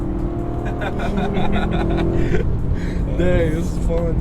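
BMW M3 or Porsche Macan S engine revving through quick gear shifts, loud interior drone dipping and climbing with each change, while people talk over it.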